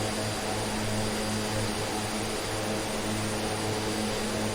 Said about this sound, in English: Just heard a jet overfly me.